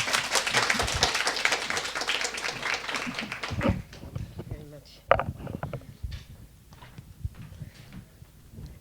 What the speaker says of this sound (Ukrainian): тепер бурхливими гучними оплесками вітаємо Сильвія Боррен